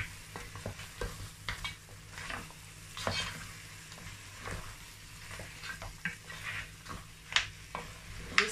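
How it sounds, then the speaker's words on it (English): Turkey stirred into a sauce in a pan makes a low bubbling sizzle broken by frequent soft spoon scrapes and taps, fairly quiet and close. "Now I'm going to add my turkey into the sauce. Going to mix all that together."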